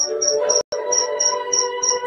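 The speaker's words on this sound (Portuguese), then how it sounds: "Vocês estão ouvindo aí o grilo cantando?" A cricket chirping indoors inside a house, regular pulsed trills repeating steadily and close by, with no talking over them.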